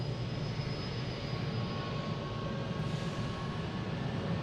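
A FedEx jet taxis into position at Boston Logan airport, its engines giving a steady distant rumble and hiss with a faint whine, no voices.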